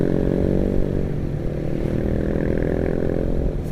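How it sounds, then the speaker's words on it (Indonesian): Motorcycle with a loud aftermarket exhaust rumbling close by on a morning ride, a steady throaty drone with slight rise and fall throughout, alone without talk. "Tuh ada mas brum knalpotnya."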